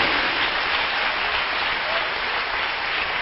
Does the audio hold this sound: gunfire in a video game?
no